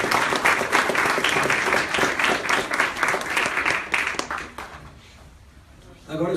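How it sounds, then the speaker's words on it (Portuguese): A church congregation applauding after a prayer: dense, steady clapping from many people that carries on for several seconds, then fades away into near quiet before a voice comes in at the end. "Palmas para Jesus."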